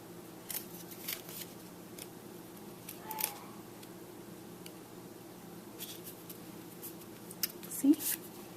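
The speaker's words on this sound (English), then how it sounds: "Just going to trim that off and trim it over here." Scissors snipping paper while trimming pieces for a Christmas scrapbook layout, a few short, quiet cuts scattered through a soft room background.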